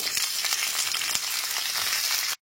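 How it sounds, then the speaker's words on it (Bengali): Chopped okra hisses and crackles in hot oil with spices in a pan, a dense, close sizzle running steadily for about two seconds before cutting off abruptly. "এরপর এতে কেটে রাখা ভেন্ডিগুলোকে দিয়ে দিচ্ছি।"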